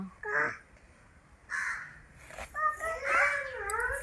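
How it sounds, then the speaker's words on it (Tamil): A crow caws several times in short, harsh bursts. Two calls come early and apart, then a longer run of caws follows near the end, close and fairly loud, with a voice briefly in the mix. "காக்கா கத்துதுப்பா."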